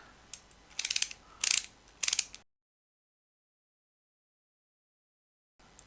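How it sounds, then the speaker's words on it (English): New ratcheting wrench from a tool haul clicking its ratchet mechanism in several quick, close bursts of sharp ticks, followed by silence. "Nice ratcheting mechanism."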